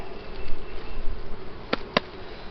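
Honeybees hum steadily around an opened hive during an inspection of queen cells, a soft continuous drone with two brief sharp clicks or taps near the end.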